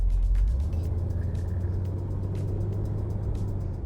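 A C3 Corvette engine pulls in third gear from inside the car, a low, steady rumbling drone with a slight surge at the start, heard alone and close.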